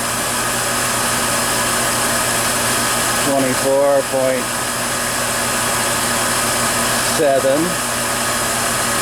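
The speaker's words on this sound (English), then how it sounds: "The compressor and fan's not on, but now you can see it just turned on." A chiller compressor and fan run as a steady broadband whir. A person speaks briefly over it twice.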